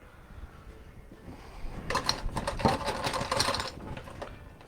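Ice cubes rattle hard inside a cocktail shaker during a falernum tiki drink, a quiet lead-in giving way to about three seconds of loud, fast, rhythmic clattering shakes with no talk.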